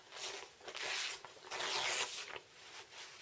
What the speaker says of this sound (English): You are going to want to rip off